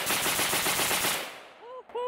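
A Zastava M90 rifle fires a fast string of loud, close shots for about a second. The gunfire then stops and a short vocal exclamation follows.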